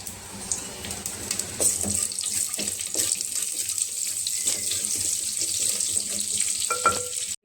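Cumin and caraway seeds frying in oil in a clay pot while a homemade chicken biryani is made: a continuous hissing sizzle, fairly quiet and even, with a few soft clinks and knocks near the end.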